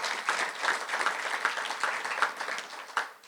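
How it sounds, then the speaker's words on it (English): Steady applause from a luncheon audience at a chamber of commerce event, dense even clapping sustained throughout at moderate distance, with no talk over it. "we can give her a round of applause"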